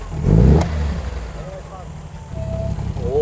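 An Alvis car engine revs briefly through its muffler, a loud low burst near the start that settles into a steady idle hum, with people talking in the car.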